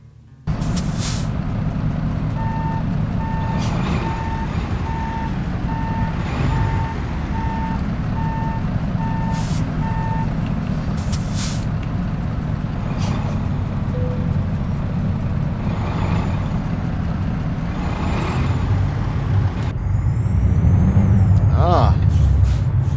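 In American Truck Simulator, a Peterbilt 389 truck idles loudly while a regular reversing beep pulses for several seconds, followed by sharp hisses of air brakes and a louder engine surge near the end.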